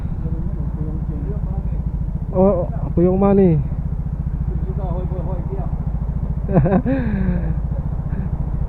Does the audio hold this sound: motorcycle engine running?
yes